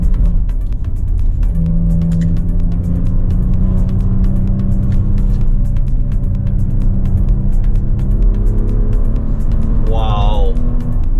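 Steady engine drone from a 2022 Maserati Levante S, a 2-ton SUV of about 480 horsepower, heard from inside while driving through turns, with a voice talking over the continuous hum.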